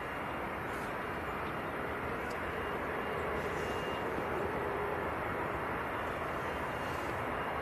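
A fixed-wing airliner at Manchester Airport circles back for another landing attempt in a stiff breeze, its engine noise a steady, distant broadband roar that holds for the whole stretch.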